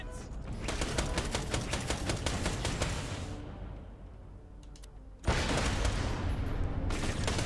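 Rapid automatic gunfire against turrets in Borderlands: The Pre-Sequel, a dense rattling stream of shots that thins out midway to a quieter rumble, then bursts back in loud and sustained.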